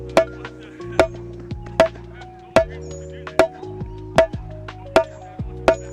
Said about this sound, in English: one of the first rudiments you learn is a paradiddle